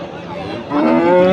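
A single deep, drawn-out moo from a Holstein Friesian bull nearby at a cattle sale, swelling louder halfway through and holding to the end.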